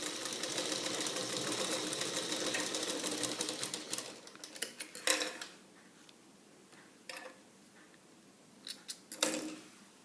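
A sewing machine stitching a seam with a quarter-inch allowance, steady whirring for about four seconds, then falling quiet apart from a few short clicks and handling taps.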